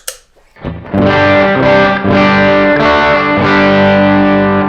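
An electric guitar with single-coil pickups runs through a JOYO British Sound amp modeler, giving a driven, distorted tone; a brief pick noise leads into sustained strummed chords ringing loud and alone.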